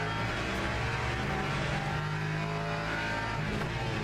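Ferrari GT3 race car with a V10 engine in the Le Mans Ultimate racing game, a loud, sustained high-revving roar that holds steady throughout with no talking.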